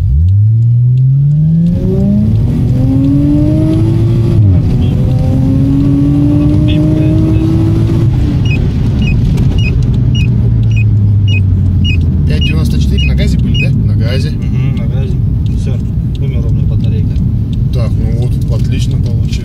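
A Yamaha Tracer (Chaser Tourer) running on LPG accelerates hard from 0 to 100 km/h, its engine revving loud and close through rising gear pulls, with talk over the engine noise.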